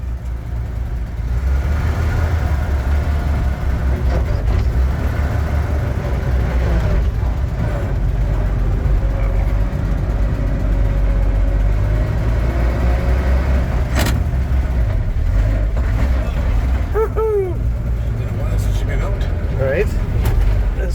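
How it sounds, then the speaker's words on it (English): A 1946 Dodge Fargo fire-engine-red truck drives along at a museum, with a steady low engine drone and road rumble throughout, occasional squeaks and clunks, and people talking over it. "We're going for a ride in the 1946 Fargo."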